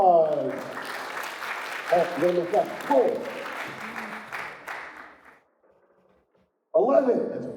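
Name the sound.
audience applause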